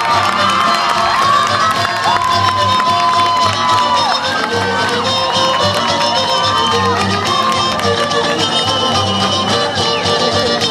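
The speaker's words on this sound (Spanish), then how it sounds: "Pues yo creo que sí se merecen otro aplauso, ¿no?" A festive crowd at a 2011 Pánuco Viejadas celebration cheers and shouts loudly and continuously, with children's whoops over a dense wash of noise and music throughout.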